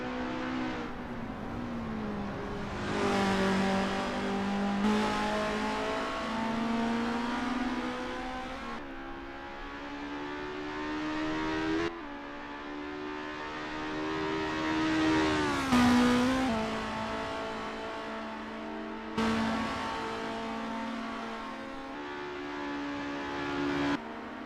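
Formula race cars warming up at Zandvoort in a sim racing game, engine notes rising and falling through repeated revs and gear changes, one car loud and near, others passing in the background.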